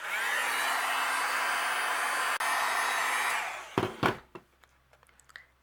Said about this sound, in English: So we will go over this with gold embossing powder. And I'll use my heat gun and we'll melt this also.